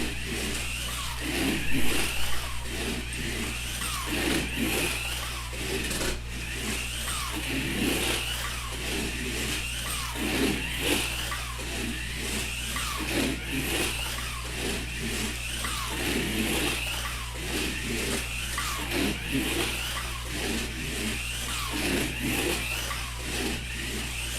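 Midget race car on a track with loud, continuous engine drone and repeated revving surges, tires adding a steady harsh roar throughout, close and unbroken with no talk.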